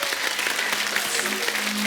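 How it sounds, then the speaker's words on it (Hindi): A studio audience at a Hindi TV comedy show claps loudly and continuously, dense applause filling the whole stretch with no talk over it. "अरे किरण जी के लिए जोरदार ताली।"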